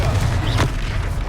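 Confringo fire spell blasting in Hogwarts Legacy during a boss fight, a loud booming burst lasting about a second over dense rumbling battle noise.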